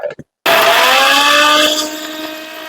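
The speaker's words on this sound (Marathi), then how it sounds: "हे सगळं आपण जे घेतलेले आहेत त्याचे इन्ग्रेडियंट मिक्सर मध्ये बारीक करून घेऊयात." Electric mixer grinder blending coriander, cumin and other appe batter ingredients, a loud motor whir that kicks in abruptly after a brief pause and runs steadily with a high whine, easing slightly toward the end.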